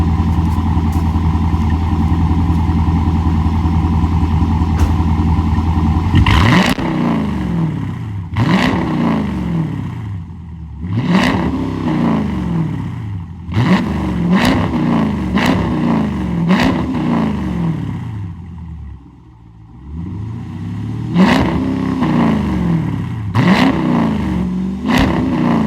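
Dodge Durango RT V8 engine idling, then revved in a series of sharp throttle blips, each rising and falling, repeated roughly ten times with short pauses, loud and close without talk.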